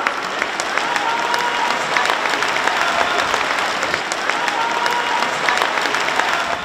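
Sustained applause from an audience at a jubilee evening, a steady dense wash of many hands clapping with no break, filling the room at a fairly loud level.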